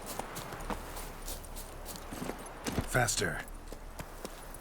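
Geralt's horse Roach in the video game Witcher 3 walks with steady, close clip-clop hooves throughout, and a voice speaks briefly over them.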